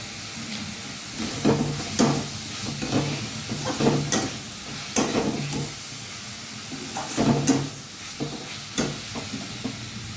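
A masala mixture with prawns, potato and sponge gourd sizzles in oil as a spatula scrapes and stirs it in irregular bursts, close and steady over ten seconds, without talk.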